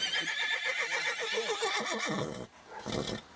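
An old horse, over fifteen years of age, whinnies loudly in a long, wavering neigh that fades out, followed by a shorter, fainter snort or whinny close by.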